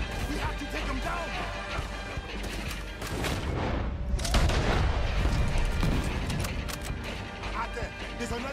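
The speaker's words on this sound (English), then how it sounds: "He's shooting. We have to take him down." Gunfire from an enemy shooting from a tower in Red Dead Redemption 2, heavy booms and clattering shots over a loud, dense battle mix with cannon fire nearby, continuous throughout.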